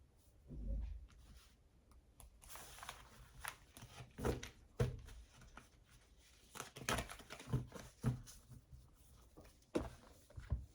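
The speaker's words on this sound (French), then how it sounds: "Allez, on continue avec l'oracle Béline. Je mélange délicatement." Oracle cards being shuffled gently by hand, a series of soft irregular riffles, taps and rustles with quiet gaps between, close but faint and without talking.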